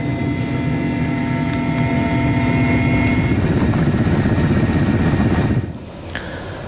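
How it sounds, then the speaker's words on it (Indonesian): A water-bombing helicopter fighting forest and land fires in Central Kalimantan gives a steady, loud rotor and engine drone that suddenly cuts away near the end, leaving quieter background sound. "Hingga kemarin petugas masih terus melakukan upaya pemadaman karhutla mengerahkan helikopter waterbombing."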